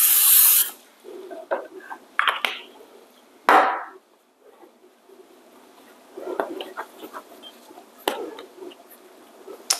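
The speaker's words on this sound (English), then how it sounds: "So I'll lightly spray this." An olive oil spray mists onto a baking pan in two short hissing bursts, one at the start and one midway, set among quieter clicks and handling noises in a kitchen.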